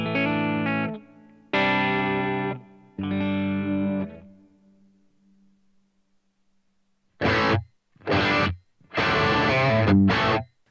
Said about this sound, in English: I'm going to have a clean-ish sound with reverb